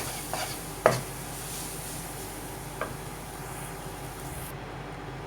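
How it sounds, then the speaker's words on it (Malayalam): Chicken masala Maggi noodles being stirred in a pan, with a soft scrape of a spoon, a sharper clank near the start and a faint one later over a low steady background, no talking. "നന്നായിട്ട് ഇളക്കാം."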